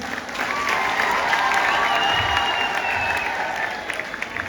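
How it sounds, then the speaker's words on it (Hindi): Loud audience applause at a college inauguration event for a Haryanvi web series, a sustained wash of many hands clapping with a faint murmur of crowd and a few cheers, swelling in the middle and easing toward the end. "जोरदार तालियों से।"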